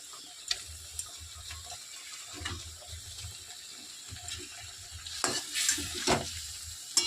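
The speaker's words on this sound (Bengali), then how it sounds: "এবার ফুটে গেছে ঝোলটা, এরপরে মাছগুলো দিয়ে দিচ্ছি" Katla fish pieces go into a boiling malai curry gravy, giving a soft bubbling simmer with low rhythmic stirring thumps and a brighter burst of splashing sizzle near the end, heard alone with no talk.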